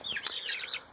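Chickens in a farm pen give high, bright calls and clucks, a few quick bursts with one sharper peak near the start, close and fairly clear with no talking.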